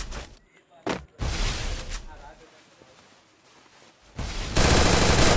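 Bursts of gunfire in a Free Fire mobile battle-royale match come in quick rattling volleys separated by short gaps, ending in a loud sustained burst, while a player talks over the action.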